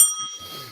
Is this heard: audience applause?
no